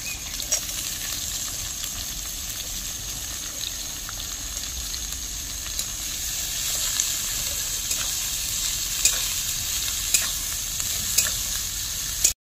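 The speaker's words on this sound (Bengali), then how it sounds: "এবার আমি পেঁয়াজটা দিয়ে দিচ্ছি ভাজার জন্য।" Onions frying in hot oil with whole spices for a village-style duck curry: a continuous, close, dense sizzle with bubbling crackle and occasional sharp pops, no talking.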